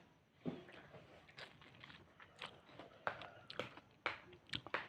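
Close, crisp crunching bites into a yellow star fruit, with a series of wet chewing and biting sounds in irregular rhythm, quiet overall.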